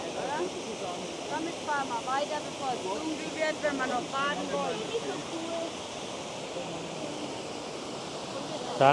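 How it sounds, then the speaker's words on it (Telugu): Powerful Black Forest waterfalls in Germany pour with a constant, full rushing roar, while people talk over the water noise for several seconds midway. "బాగా ఫోర్స్ఫుల్ ఉన్నాయి వాటర్ ఫాల్స్ ఇవి"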